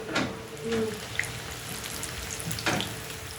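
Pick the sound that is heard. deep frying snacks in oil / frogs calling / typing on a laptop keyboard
deep frying snacks in oil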